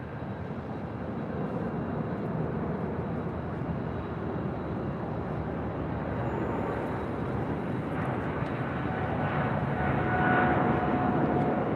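A heavy Boeing 787 Dreamliner on short final to land on runway 24 right at LAX, heard as a loud, continuous roar of jet engines that holds steady throughout, with no talking.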